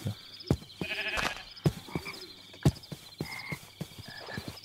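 Frogs croaking in Minecraft, a string of loud, close croaks and bleating calls at irregular intervals over quiet pond-like ambience, with no talk.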